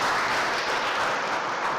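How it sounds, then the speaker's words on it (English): An audience at a small business awards event claps in a dense, steady round of applause that holds evenly throughout, heard from within the room with no voices. "So Dr. Lee, Dr. Wan, and Yo-Yo Yu, you can clap"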